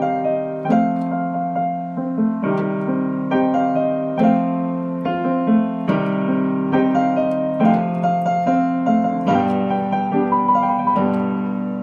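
A melody played in C Dorian on a keyboard-like instrument with chords, steady phrases of struck notes over sustained harmony, clear and alone with no speech.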